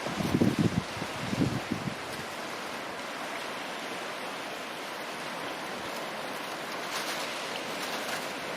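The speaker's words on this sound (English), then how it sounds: "You can listen to the sea." The calm Indian Ocean near Kovilan Point Lighthouse in Karainagar, heard as a soft, steady broadband wash of surf, after a brief burst of low wind rumble at the start, faint and continuous.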